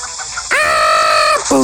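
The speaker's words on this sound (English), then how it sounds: "I hear a chicken!" A chicken in a video game gives a loud, drawn-out squawking cry followed by a second call, close and clear, with no talking over it.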